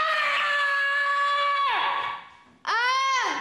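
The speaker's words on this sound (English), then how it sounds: "Okay, that's your scream." A child gives two long, loud primal screams at a rock school session, the first sustained then trailing off, the second short and sharp after a brief gap.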